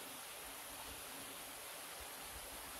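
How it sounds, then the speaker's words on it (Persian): Water of the Harijan waterfall along the Chalus road in Iran, a faint, steady rushing wash with no breaks and no voices. "صدای دلنشین آب آبشار زیبا"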